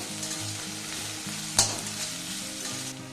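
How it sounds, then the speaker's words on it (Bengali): Onions fry in a pan with ginger and garlic paste, giving a soft continuous sizzle with one sharp clack of a utensil midway, under faint background music. "তারপরে দিয়ে দেবো পেঁয়াজ খুব লাল করে ভাজতে হবে না এটা একদমই এইভাবে আমি সব ভাজতে থাকবো"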